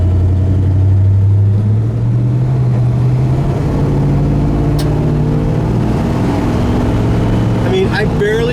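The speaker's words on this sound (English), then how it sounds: "as far as the idle goes, I like the way it's idling" A 1969 Chevrolet Impala SS with a 427 engine idles close by, a steady, deep, loping rumble with even low throbbing that runs without a break for the whole stretch.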